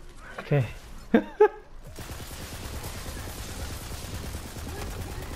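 Rifle gunfire in Tiny Tina's Wonderlands, a quick run of rapid shots under a steady layer of game noise, following a few loud spoken exclamations at the start.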